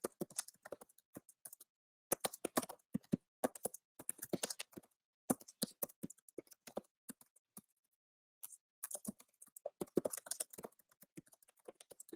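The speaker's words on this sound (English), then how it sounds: "I'm such a hard typer" Hard, forceful typing on a computer keyboard, a dense run of sharp key clacks in bursts with a couple of brief pauses, close and fairly loud, with no voice.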